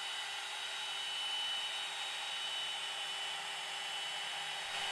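A Benchtop PRO CNC machine runs a facing pass on the underside of a wooden guitar body, giving a steady, loud high-pitched whine with a constant tone that holds evenly throughout and no talking.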